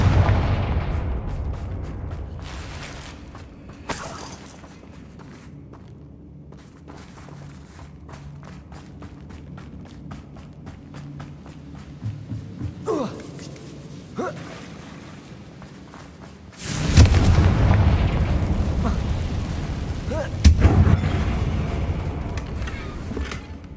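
Confringo fire spells blasting in Hogwarts Legacy near a damaged bridge, giving two loud bursts with rumbling tails over steady game ambience, plus a few sharper cracks in between.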